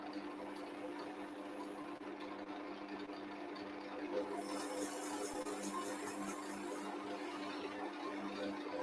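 Sandpaper is pressed against a wooden Christmas decoration spinning on a lathe. A low, quiet machine hum comes first, then a soft, steady sanding hiss rises and continues to the end.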